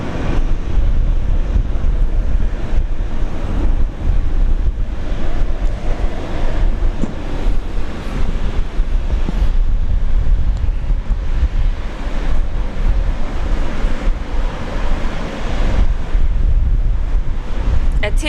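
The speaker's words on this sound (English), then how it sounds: "Getting a bit gusty." Strong gusty wind buffets the microphone at Brisbane International Airport, a loud continuous roar of rushing air and rumble that swells and dips throughout with no break.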